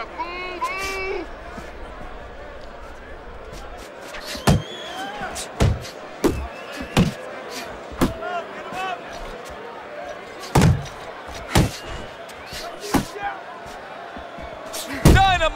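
Heavy punches land in a simulated Fight Night Champion bout between Tyson Fury and Daniel Dubois, a dozen or so sharp thuds at irregular intervals over a busy arena crowd hum, with a commentator speaking throughout.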